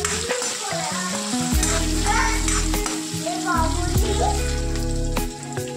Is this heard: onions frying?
yes